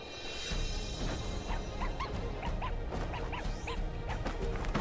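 A dog character in the Guilty Gear Strive fighting game barks, yips and whimpers in short repeated bursts over busy game music and hit effects.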